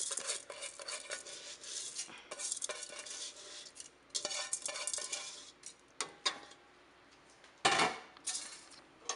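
A spoon stirs washed rice into black beans in a pot for Cuban congrí, giving close scraping and clinking against the pot in irregular bursts, with no talking.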